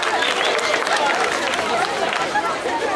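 Audience at a strongman contest between a man and a car in Saratov, Russia, giving loud, steady applause mixed with cheering and crowd hubbub, close and continuous for the whole stretch.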